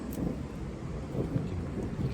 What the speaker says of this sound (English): you can hear thunder there